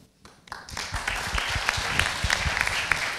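Audience applause at a panel discussion on the future of cariology, rising from scattered claps into a steady, fairly close round of clapping that continues to the end.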